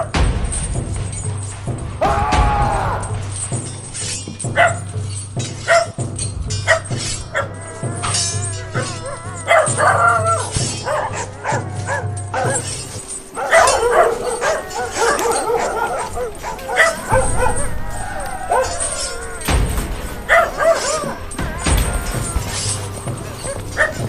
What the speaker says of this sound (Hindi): अपने 500 खुखार नरभक्षी पालतू कुत्तों को रावजी की फौज पर खुला छोड़